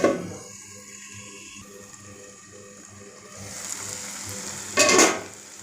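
Sliced onion cooks in a pan under a low, steady sizzle with faint tonal hum. Clattering and scraping grow louder toward the end, where one sharp bright burst stands out.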